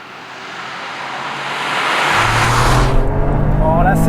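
A Toyota GR Yaris Track Pack in sport mode with a rear-biased all-wheel-drive split accelerates hard during a rally-style drive. The engine note climbs loud and close, with a sharp gear change near the end.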